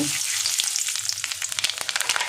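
Black cumin seeds (kalonji) fry in hot oil in a pan alongside a dried red chilli, giving a steady, close crackling sizzle with small sharp pops throughout.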